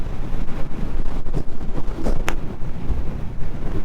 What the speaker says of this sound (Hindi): पर अभी हवा चल रही है बहुत ज़्यादा, मैं रुक नहीं पाऊँगा।